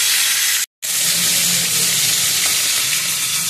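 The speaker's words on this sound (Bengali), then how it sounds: "লেজাগুলো ভাজছি, এই লেজাগুলো দিয়ে ভর্তা খেতে কিন্তু দারুণ লাগে।" Hilsa fish tails fry in hot oil with a loud, steady sizzle and crackle, close and continuous apart from one brief silent gap near the start.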